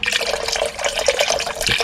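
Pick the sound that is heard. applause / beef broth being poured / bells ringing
beef broth being poured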